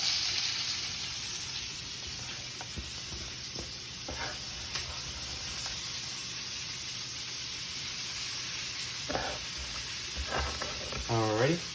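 Onions sizzle in a cast iron pan with a steady hissing fry, a few light taps from a utensil scattered throughout and a brief clatter near the end, at moderate loudness and without voices.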